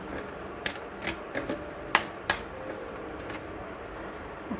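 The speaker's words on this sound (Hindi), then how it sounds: "एंड तब तक मैं शफल करती हूँ," Tarot cards being shuffled by hand, a few soft crisp riffles and taps scattered over quiet room tone, fairly close and with no talking.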